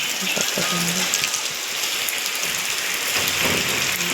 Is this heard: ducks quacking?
no